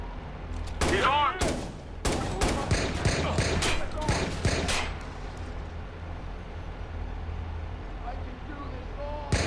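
Shotgun fire in the video game Watch Dogs, a series of loud, close, sharp blasts in quick irregular bursts over the first half, then fading into a low rumbling ambience.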